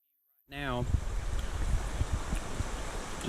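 A river rushes beside the Roundtop Trail crossing, a close, steady broadband wash that sets in after a short silence and carries on evenly, with a brief voiced tone at its onset.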